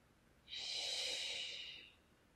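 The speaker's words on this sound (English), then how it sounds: "We're going to take five more breaths here." A single slow, steady breath during a cooling yin yoga session, a soft airy rush that swells for about one and a half seconds and fades, heard alone and close in a quiet room.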